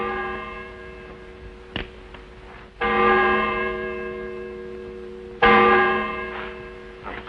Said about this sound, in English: That bell was your call to prayers, mister.